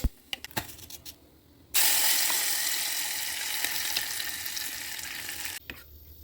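Tempering (talimpu) in cold-pressed oil for ridge gourd dal bursts into a loud, close, hissing sizzle after a few faint clicks, holds steady for about four seconds, then cuts off abruptly.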